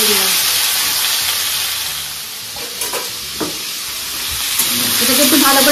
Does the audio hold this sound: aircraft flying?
no